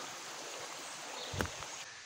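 A creek flowing over its stone bed, a steady soft wash of water heard close by with a brief splash or step near the middle, no voices.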